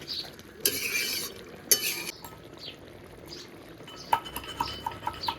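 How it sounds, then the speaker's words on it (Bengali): Rohu fish pieces being stirred into a tomato curry in a pan, with intermittent scraping and clinking of a utensil against metal, moderately close, some sharper clinks near the end, no talking. "এখন ভালো করে মিশিয়ে আরো 2-3 মিনিটের মতো রান্না করে নেব।"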